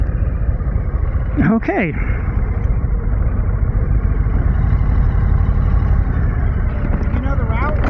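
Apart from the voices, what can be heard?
Harley Davidson Low Rider S motorcycle engine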